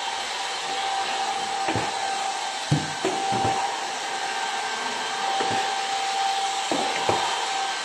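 A Kissof S17 cordless stick vacuum cleaner runs with a constant whirring motor drone and a steady whine, while scattered dull knocks and bumps break through as it works along stairs and corners.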